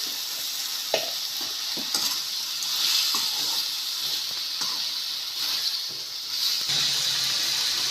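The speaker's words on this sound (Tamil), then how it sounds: "இப்போ எல்லாம் வதங்கிக்கிட்டு இருக்கு." Adamant creeper (pirandai) with turmeric sautés in a pan, a steady close hiss and sizzle broken by frequent scraping stirs of a spoon.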